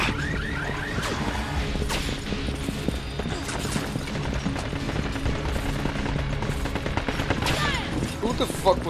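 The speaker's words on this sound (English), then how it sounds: "Who the fuck was shooting at me?" Video game gunfire, with rapid bursts and scattered sharp shots crackling nearly nonstop, some close and loud, layered over busy combat noise.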